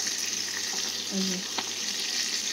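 A steady oily sizzle of pointed gourd frying in a pan, close by, with faint stirring.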